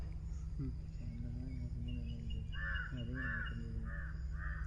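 Several crows caw in Salem, Tamil Nadu, India, giving a few spaced harsh calls and then a run of louder, rhythmic caws close by over a steady low hum.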